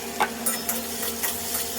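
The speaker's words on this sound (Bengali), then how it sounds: "ডিমের ভুজিয়াটা করে তারপরে কিন্তু আলুটাও ভেজে নিচ্ছি" Potatoes frying in a pan for a home-cooked Bengali tiffin, giving a soft steady sizzle with a few brief scraping stir sounds, close and fairly quiet with no talking.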